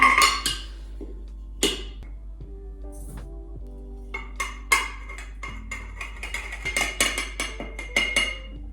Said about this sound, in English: in another bowl, I mix together the dry ingredients